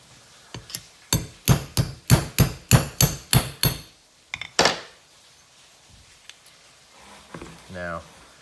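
About ten sharp, evenly spaced hammer taps drive out the extractor pin of a SIG P365 pistol, followed by a couple of lighter strikes and someone speaking briefly at the end.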